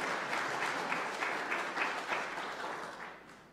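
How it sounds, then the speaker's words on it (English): A church congregation applauds during a Sunday worship service, a moderate, steady patter of many hands with faint rhythmic pulses that fades slightly toward the end. "You could probably send them with applause"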